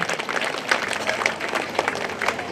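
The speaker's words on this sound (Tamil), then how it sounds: "கைத்தட்டி நம்முடைய நன்றியை தெரிவித்துக் கொள்வோம்" Audience at a church festival Mass applauding, a dense burst of many hands clapping together, fairly close and steady for a couple of seconds.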